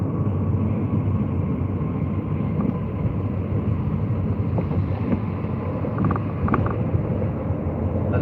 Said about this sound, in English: the sheer amount of everything we can currently hear taking off